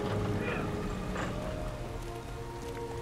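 Steady rain falls in the video game Castlevania: Lords of Shadow, a constant dense hiss with scattered drops and a low rumble beneath, holding level throughout.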